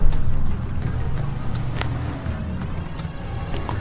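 A car engine drones steadily at low pitch in GTA V, an SUV being driven fast, with occasional light clicks and thin game-like effects above it; no talking.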